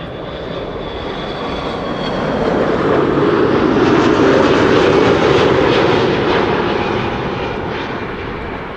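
An Airbus A330-300 arrives at Amsterdam Schiphol, its deep engine roar building to a loud, broad peak at close range before tapering off gradually. No voices.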